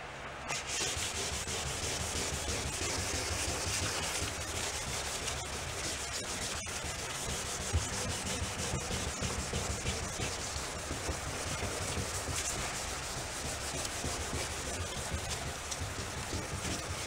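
A Beaver amphibious vehicle hull rubbed and buffed by hand, a steady, continuous abrasive scrubbing hiss throughout, close and even with no talking.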